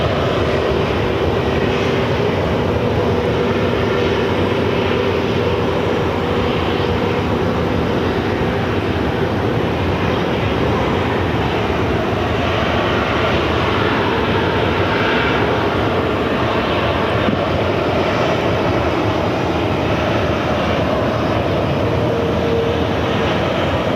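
A jet aircraft taking off from runway 8 at Phoenix Sky Harbor airport, a steady broad engine roar that holds loud and constant throughout with no talk over it.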